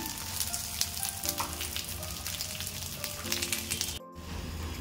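Taro leaf rolls (alu vadi) shallow frying in oil in a pan, a steady close crackling sizzle with a brief drop near the end, no talk.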